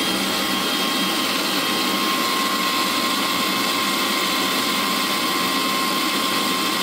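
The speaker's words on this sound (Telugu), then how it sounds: "ఒక చిన్న సైజ్ మిక్సీ జార్లో 2 టమాటాలని కూడా ఇందులో వేసేసుకున్నా. వీటితో పాటు పచ్చిమిర్చిని కూడా వేసుకొని మూత పెట్టుకొని ఒక్కసారి మిక్సీ పట్టించాలి" A small mixer grinder jar whirs at full speed, blending two tomatoes with green chillies into a puree, a loud, steady motor roar with no voice over it.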